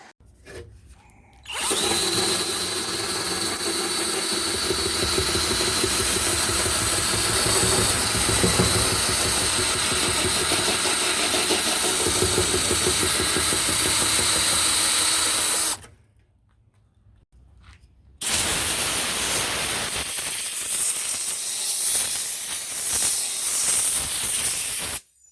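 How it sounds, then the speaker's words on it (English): A roll lock disc and wire wheel grind filler out of a passenger door seam on a one-ton project truck, a loud sustained whine with a short pause near the end before the tool spins back up. "using flat screwdriver, roll lock, wire wheel, I got all the filler out from underneath this seam"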